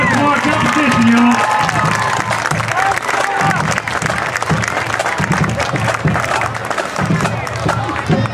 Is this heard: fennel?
no